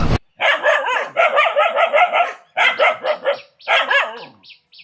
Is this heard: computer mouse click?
no